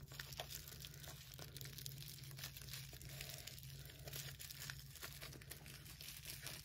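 A small cosmetics subscription mystery bag crinkles and rustles steadily as it is handled and opened, close and continuous with no talking.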